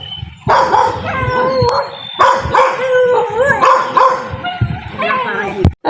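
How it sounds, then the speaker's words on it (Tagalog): A guard dog at a fish pond in the Philippines barks and howls in repeated yelping bursts, loud and close, with a person's voice mixed in among the calls. "Ang aming pong asong bantay dito sa palisdaan."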